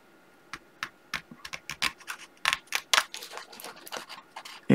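Scissors snipping paper for a pop-up album, a string of close, crisp cuts and scrapes coming in irregular bursts that grow busier toward the end, with no talking.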